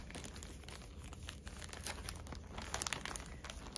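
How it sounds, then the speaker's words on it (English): Plastic bag crinkling steadily while a basket of cross-stitch supplies is unpacked, close and continuous with brighter rustling bursts toward the end, no talk. "Excuse the crinkling."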